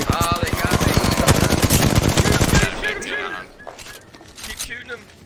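Dense, rapid automatic gunfire from the Apex Legends video game rattles loudly for almost three seconds, then gives way to quieter scattered game sounds, with voices talking over the action.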